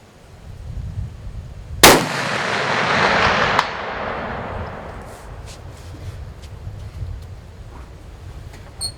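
A rifle fires one loud, sharp shot at a steel target 444 yards away. The blast's echo rolls off over the following seconds. A faint, distant metallic clang comes back from the steel a moment later.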